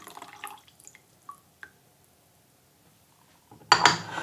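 Faint drips and light porcelain clinks are followed by a sudden close pour of water rinsing tea leaves in a brewing vessel, loud at the very end.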